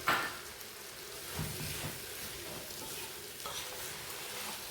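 Tomatoes with a handful of coriander and mint leaves softening in a hot pan for mutton biryani, a low steady sizzle with occasional stirring scrapes, close and continuous with no voices.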